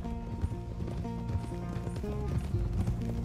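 Horse hooves clip-clopping at a walk toward the stables in Red Dead Redemption 2, a steady uneven beat over game music and low ambience, with a few faint voices mixed in.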